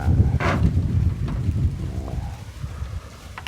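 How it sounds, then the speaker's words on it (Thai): Strong wind buffets the microphone outdoors in rice fields, a loud, low, rumbling roar that is heaviest at first and eases slightly toward the end. "ลมแรงมากเลยครับ อยู่นา"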